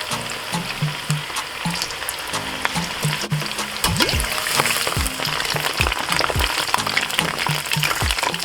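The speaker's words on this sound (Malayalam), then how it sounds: "നമുക്ക് ഈ ചിക്കൻ അതിനകത്ത് വറുത്തെടുക്കാം." Chicken pieces for restaurant-style chilli chicken sizzle in heated oil in a pan, a steady crackling hiss with popping spatters that grows louder partway through.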